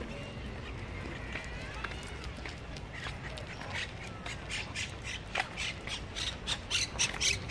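A parakeet up in a tree squawks in repeated sharp, harsh bursts that grow louder and more frequent over time, set against outdoor park ambience with footsteps nearby.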